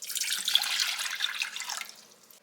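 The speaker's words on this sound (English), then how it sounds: "you're going to add in 2 cups of water" About two cups of water pour steadily into a saucepan on a stove for a couple of seconds, a bright splashing stream that tapers off at the end.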